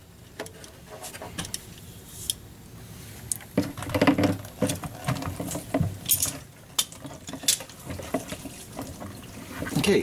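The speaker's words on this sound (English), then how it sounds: "we got gas flowing freely into that gas can" Gasoline from a Corvair fuel line pours into a gas can, a faint irregular trickling and splashing with scattered knocks, close by.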